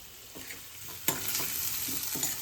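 Boiled potatoes with turmeric being stirred and mixed in a hot pan for poha; a soft steady sizzle with a few quick scraping strokes, close and fairly quiet, no voices.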